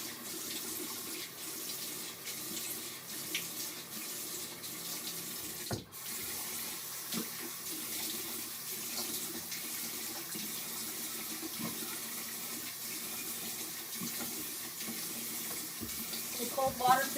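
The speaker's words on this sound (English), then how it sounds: "what I'm going to do is give myself a little warm water rinse" Warm tap water runs steadily into a sink for a rinse, a continuous hiss and splash lasting throughout with a brief interruption partway, no voices.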